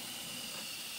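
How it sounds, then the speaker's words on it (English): Steady, close steam hiss from the steam wand of a La Pavoni Europiccola lever espresso machine, continuous and unbroken through a brief moment. "And this is the steam from here."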